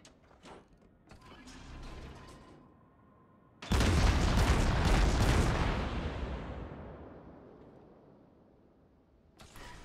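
Heavy naval guns of the cruiser Atago fire in World of Warships, a sudden loud booming salvo that rolls and slowly fades over several seconds, with quieter mechanical clatter before it and no talking.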